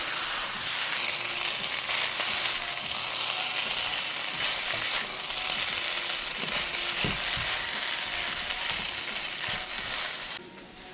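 Shrimp fried rice with sauce is stirred in a hot pan, producing a loud, dense, continuous sizzle with scraping stirs throughout that cuts off abruptly near the end.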